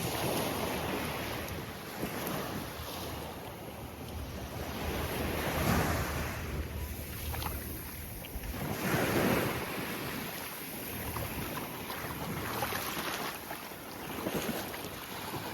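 Ocean surf washes steadily onto the Tenerife seashore, a continuous broadband roar of breaking waves that swells and recedes, with wind buffeting the microphone throughout and no voices.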